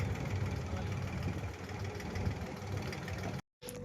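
A big boat's engine in Dubai runs at a steady idle, a low knocking rumble with vibration that holds constant and then cuts out abruptly for a moment just before the end.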